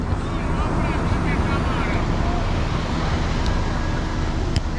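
Big ocean waves wash against the shore on a beach in Brazil, a broad steady roar of surf mixed with wind buffeting the microphone, continuous throughout.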